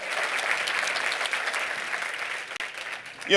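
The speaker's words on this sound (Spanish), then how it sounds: "Let's give him another round of applause for putting this." A crowd at a motivational talk applauds steadily, a dense, even patter of many hands that thins slightly toward the end.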